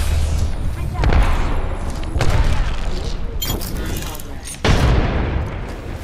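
Grenade and gunfire blasts in Apex Legends, several loud booming bursts about a second apart with rumbling tails, heard close amid game noise.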